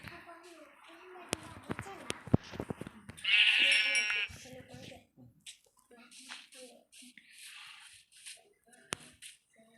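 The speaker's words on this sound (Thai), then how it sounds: "แต่ตอนนี้เราเกิดแกะสีน้ำตาล" Sheep bleating in the Minecraft video game, a brief wavering bleat near the middle of the clip amid scattered game sounds and talk.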